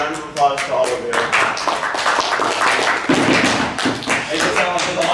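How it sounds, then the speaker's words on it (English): Morning audience at a Fiesta Equestria convention panel claps in scattered bursts, uneven and close, with murmuring voices mixed in. "Round of applause to all of you."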